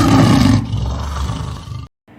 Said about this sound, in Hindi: शेर राधिका के पीछे चुपके से पहुंच गया और जोर से दहाड़ लगाई।